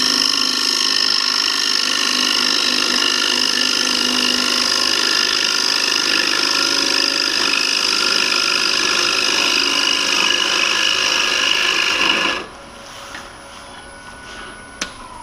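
A wood bowl being hollowed on a lathe with a simple hollowing tool, a loud steady close cutting roar with motor whine lasting about twelve seconds before stopping abruptly, leaving faint quiet afterward.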